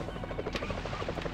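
A helicopter's rotor chops in a steady, rapid rhythm in the video game Jaws Unleashed, loud and continuous, with a brief whooshing burst partway through.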